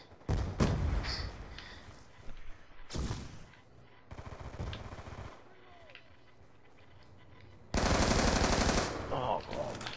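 Gunfire in a multiplayer shooter video game comes in several loud bursts of rapid automatic fire and single shots, separated by quieter gaps.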